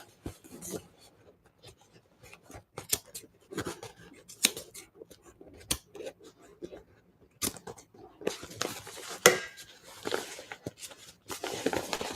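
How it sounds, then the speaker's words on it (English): Batting scissors with an angled blade snip and rasp through fabric in a series of irregular, close cuts, quiet crisp crunches with brief pauses between them during embroidery work. "I'm gonna use my batting scissors first, because they have a little angle."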